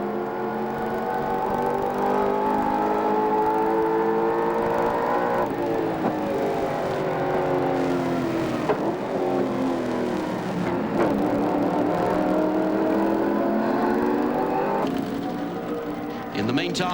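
Holden Commodore race car lapping Mount Panorama in traffic during the 1990 Bathurst 1000: a loud, close engine whine that climbs and drops sharply through repeated gear changes, with a continuous high mechanical drone.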